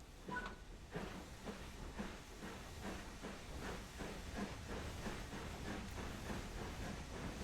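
Fowler 4F steam locomotive in Train Sim World, cylinder cocks venting steam in a soft, rhythmic chuffing hiss that pulses evenly as the engine gets underway, low and distant.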